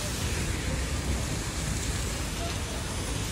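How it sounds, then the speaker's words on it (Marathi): Torrential monsoon rain pours down outdoors in Maharashtra, a dense, loud, unbroken roar of downpour that is close and steady throughout. "भाई तुफान पाऊस आलाय बघा"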